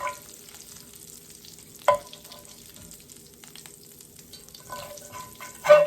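Seared pork riblets sizzle in a cast iron skillet, a low steady frying crackle with a few louder bursts and clatters as pieces are moved, no talking.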